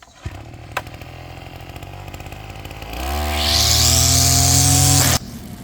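A string-trimmer brush cutter idles unevenly near by, then revs up to a loud steady whine at about sixty percent throttle while mowing grass on a grave mound, cutting off abruptly near the end.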